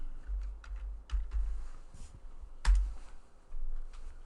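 Typing on a computer keyboard while entering a search in a finance site, heard as a few close, sparse key clicks over a low background hum.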